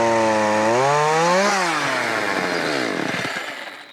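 A chainsaw cuts through a roof LVL beam at an off-grid cabin, a loud close whine that dips in pitch as the chain bites, then climbs and fades as the cut ends; no talk.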